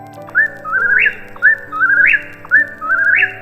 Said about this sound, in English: Antrostomus vociferus